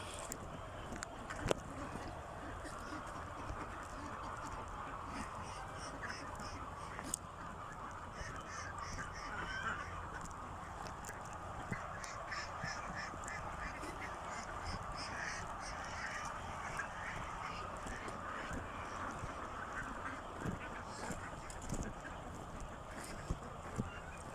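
A flock of ducks on a duck farm keeps up a continuous, faint chorus of quacks and honks, spread out at a distance.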